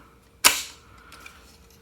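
A SodaStream Genesis bottle snaps into its holder with one sharp, close click, and a faint ringing decay trails after it in an otherwise quiet room.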